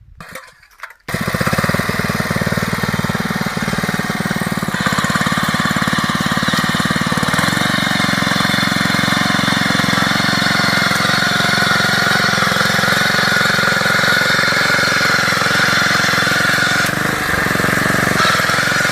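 A small power weeder drum cultivator engine roars loudly and steadily after a brief quiet start, running continuously at a constant throttle with no voices.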